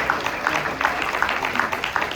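A conference audience claps for the panelists, a dense, steady patter of many hands close by with no voices over it.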